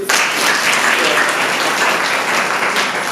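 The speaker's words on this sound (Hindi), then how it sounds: "ताली बजाओ इनके लिए" Group applause at a training session, a loud burst of many hands clapping steadily for a few seconds with no talk over it.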